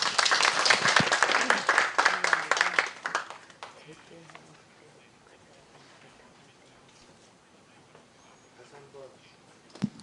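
A forum audience claps in loud, dense applause for about three seconds after a speech, then it fades to scattered claps and quiet room noise.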